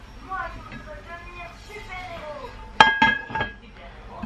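A lid clinks down onto a pot of Flemish carbonnade simmering on low heat, giving a sharp metallic clatter with a few short rattles after it, close by, over quiet kitchen background and faint talk.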